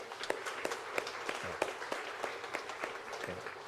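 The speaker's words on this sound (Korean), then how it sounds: "뜨거운 박수로 환영해 주시기 바랍니다" Congregation applause in a church welcoming a visiting pastor couple, quiet scattered claps with a few sharper individual hand strikes standing out.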